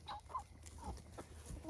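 Buff Brahma hens with feathered feet clucking in a backyard flock, a few close, soft clucks and short calls scattered over light background noise.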